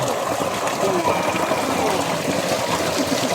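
Clear, cold water flows steadily in an outdoor stream or pool, a continuous broadband rush with soft trickling close by that holds level throughout.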